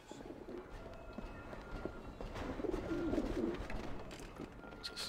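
Pigeons coo softly in a coop in the video game Alice: Madness Returns, a faint low warble over busy ambient game noise and light thumps, with no talk.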